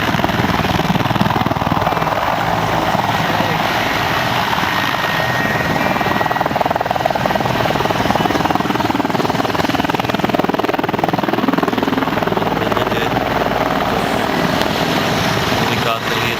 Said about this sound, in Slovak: Teraz už teda vrtuľníček prichádza priamo pred vaše oči do vášho blízkeho dohľadu.